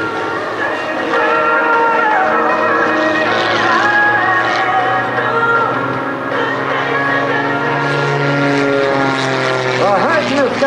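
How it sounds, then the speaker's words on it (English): Propeller aerobatic airplanes of the Iron Eagles team performing a half-roll at the Westfield International Airshow, a loud continuous engine drone that rises and falls in pitch as they pass, with a voice over the public address. "One aircraft will half-roll, and they'd like to dedicate this maneuver to all the folks from the 104th Fighter"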